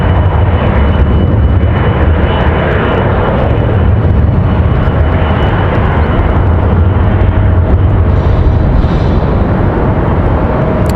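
Frontier Airbus A321 airliner on final approach at Raleigh-Durham International on a windy day, a loud, sustained engine roar with rumbling wind noise, steady from start to finish.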